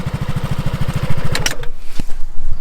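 A Yamaha XMAX 125 Tech Max 2022 scooter engine (Euro 5) warming up putters in a rapid, even rhythm at close range, then drops off into quieter clatter and a few clicks.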